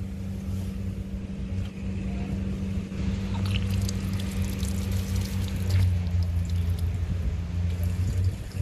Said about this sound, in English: This tip is to show you how much water comes out of a air prep